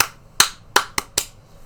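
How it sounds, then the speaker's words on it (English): Hands clap four sharp times in an irregular rhythm, close and loud, each crack ringing out alone in a quiet room as a percussion demonstration. "This could mean our hands clapping"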